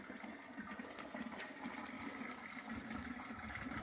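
Cold drinking water flowing steadily from a mountain spring source in Uttarakhand, a continuous close rushing gush with no pauses, moderately loud and alone.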